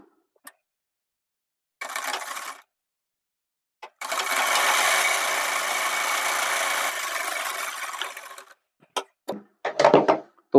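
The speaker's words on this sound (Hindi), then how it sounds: "तो इस तरह से मिलाकर रखेंगे और यहाँ पर हम सिलाई लगा लेते हैं।" A sewing machine stitching lace onto a kurti, one short burst followed by a long steady whirring run of about four seconds, then a few brief stop-start stitches, close and loud.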